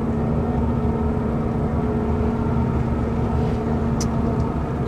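A 2024 Formula 290 BR boat with twin Ilmor engines maneuvers in reverse and rotation, producing a steady low engine drone with a constant tonal hum and wash of water, without voices.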